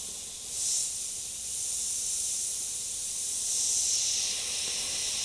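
An airbrush sprays paint onto a clown template in a soft, airy hiss that swells and eases in gentle waves, close by and without talk.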